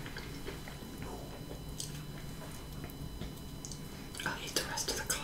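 A frosted sugar cookie is bitten and chewed up close, soft crunching and wet mouth sounds with a few sharper bites near the end, beneath quiet whispered talk.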